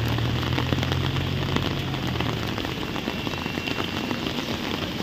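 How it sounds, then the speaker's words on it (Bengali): Heavy rain pouring down outdoors on a road during a thunderstorm, a dense continuous patter of drops hitting surfaces nearby, steady throughout with no voices. "এত জোরে বৃষ্টি পড়ছিল আর বাজ আর মানে বিদ্যুৎ চমকাচ্ছিল"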